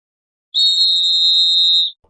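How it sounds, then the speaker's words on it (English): The built-in whistle of a self-defense pen sounds a single shrill, steady blast lasting just over a second, loud and clean against silence. "it has a built-in whistle"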